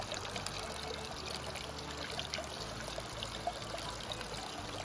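Spring water pours and trickles steadily from a spring near Skole, a soft continuous splashing stream held at an even level throughout with no voices.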